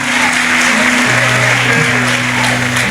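Church congregation clapping in a steady dense wash, loud and continuous, with a sustained organ-like tone underneath.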